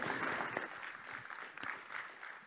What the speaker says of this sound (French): Vous pouvez applaudir nos intervenants.